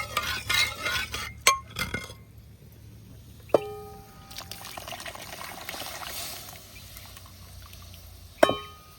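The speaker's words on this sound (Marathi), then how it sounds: "हे वरण टाकलं." Thin dal is poured into a pan of spicy village-style sambar and then stirred, giving a trickling pour with a few sharp clinks of metal on the pan.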